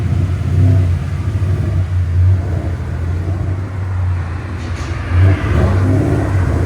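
Supercharged Ford Mustang GT with a 5.0L V8, headers and an axle-back exhaust, launching hard: a loud, close, deep engine roar that surges, dips briefly, then rises again into a strong rev with no talk.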